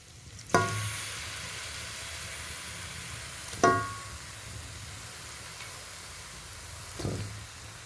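Beef bones frying in hot masala in a pan, a steady soft sizzle broken by three sharp scraping stirs spaced a few seconds apart, with no voices.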